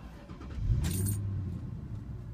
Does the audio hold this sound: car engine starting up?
yes